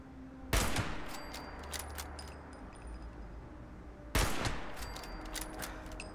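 Two loud, sharp sniper rifle shots in the video game Fallout 76, spaced several seconds apart, each followed by a fading echo and small metallic clinks.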